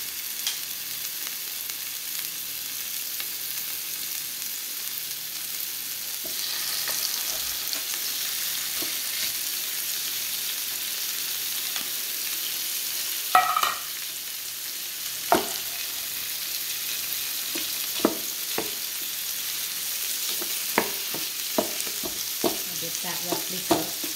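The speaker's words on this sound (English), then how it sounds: "add my palm corned beef to one side of the skillet" Canned Palm corned beef frying in oil in a skillet, a steady soft sizzle throughout with occasional scraping and stirring clicks from a utensil, close and alone.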